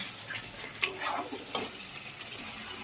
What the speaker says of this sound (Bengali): এবারে এটাকে ভালো করে কষাবো তারপরে ঝোল দেব